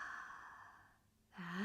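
A slow, deep breath out during a guided breathing exercise, a soft airy exhale that fades into quiet before a fresh breath begins at the end.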